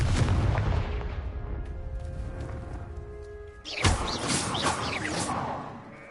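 An explosive spell blast from the video game Hogwarts Legacy, a loud booming crash that rumbles and fades, followed by a second burst of crackling explosive debris and rumble.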